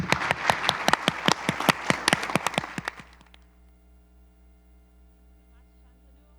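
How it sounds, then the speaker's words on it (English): Audience applause at the MIT iQuHACK 2023 quantum hackathon keynote panel, a burst of dense, sharp clapping for about three seconds that cuts off abruptly to near silence with a faint hum. "please, a round of applause for Valeria."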